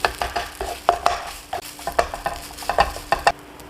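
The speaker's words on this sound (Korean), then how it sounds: "주걱으로 이렇게 골고루 섞어주시면 돼요" Fried rice with shrimp is stir-fried in a frying pan, a spatula striking and scraping the pan in quick, irregular strokes over a light sizzle, up close with no voices.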